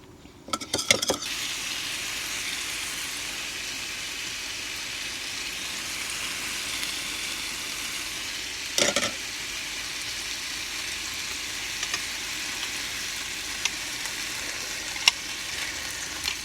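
Thai moo ping pork skewers frying in a pan, turned and basted, make a continuous close sizzle with a few brief clatters from turning, steady and unbroken throughout.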